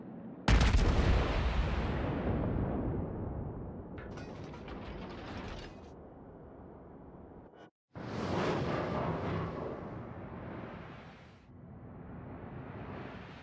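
The Yamato battleship fires its main guns in World of Warships: a sudden heavy blast rolls into a long rumbling decay, then after a brief gap a second thunderous boom follows and trails off, loud and without talk.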